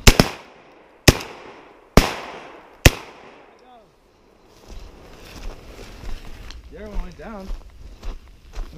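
Four loud shotgun blasts ring out at roughly one-second intervals while hunting grouse in northern fall woods, each followed by a fading echo, then rustling movement and nearby voices.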